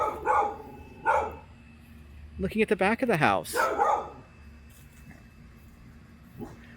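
A neighbor's dog barks outside a St. Louis home, a rapid burst of several barks in the middle with someone speaking before and after.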